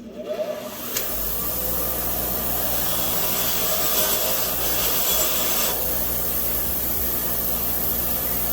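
A belt sander grinds steadily against rusty Prius brake parts, a loud continuous rasping whir that starts after a second and runs without pause.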